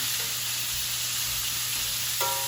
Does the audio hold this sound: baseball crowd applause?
no